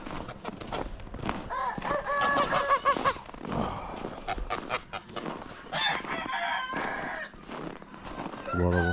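Chickens cluck and a rooster crows in a poultry yard in harsh winter cold around -20 degrees, with busy, overlapping calls near and far at steady loudness throughout.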